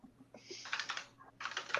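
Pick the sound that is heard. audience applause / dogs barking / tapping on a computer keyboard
tapping on a computer keyboard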